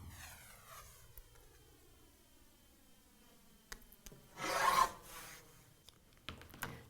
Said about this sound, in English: Next, we start cutting our 3-inch strips.